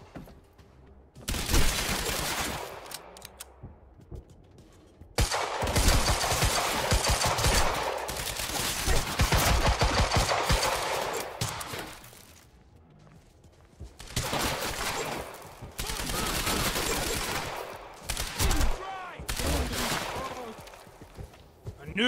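Heavy gunfire in the game Quantum Break, loud sustained bursts of shooting separated by short quieter gaps, with a voice talking over parts of it.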